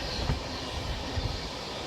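An Intercity Express running from Pune toward Mumbai just after leaving Pune Junction, with two trains crossing: a steady close rumble of wheels and carriages, with a faint clack now and then.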